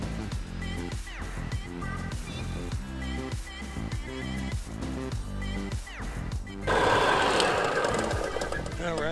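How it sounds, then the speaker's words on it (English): A verticutter scarifies a lawn during spring overseeding, its engine running with a rough, rattling mechanical drone that grows louder and harsher toward the end; someone talks over it. "All right, let's get some verticutting going."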